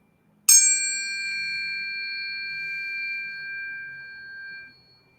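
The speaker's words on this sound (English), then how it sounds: "Let's chime you in." A single bright chime strikes to open a tarot reading. It is a sharp metallic ding that rings on with a long, pure, slowly fading tone for about four seconds, alone in a quiet room.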